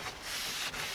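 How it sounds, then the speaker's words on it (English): A cloth wiped across a Jeep XJ body panel, giving a close, continuous rubbing swish that briefly dips before resuming, lasting about a second. "We want to wipe the whole panel down"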